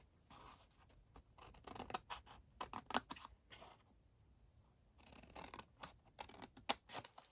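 Scissors snip through cardstock along score lines while making a Stampin' Up! treat box, in two bursts of quick, crisp close cuts separated by a quiet pause.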